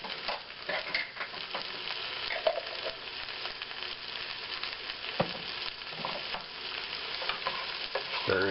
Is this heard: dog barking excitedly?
no